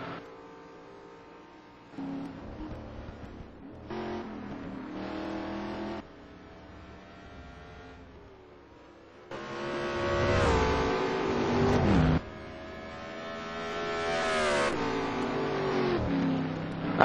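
Race cars battling closely on the Nürburgring circuit, a Corvette among them, engines roaring past in loud overlapping waves that swell, fade and rev up again with gear changes, building to a dense, nearby howl.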